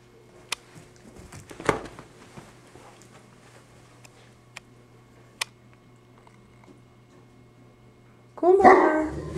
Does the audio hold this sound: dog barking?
yes